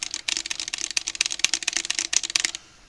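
Fast typing on a Lumiere mechanical keyboard, a dense, crisp run of close clacky keystrokes at an even rapid pace that stops abruptly near the end.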